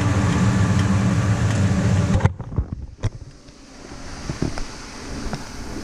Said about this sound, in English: I'm going to fire up my pump. It'll blow the air out of this system on its own.